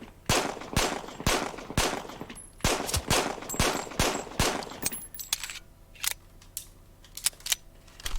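Weapons fire in the Triton VR warfare game, sharp single shots and quick bursts cracking loudly one after another at an irregular pace, with fainter mechanical clicks between them and no talking.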